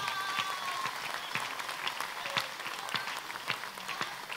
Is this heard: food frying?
no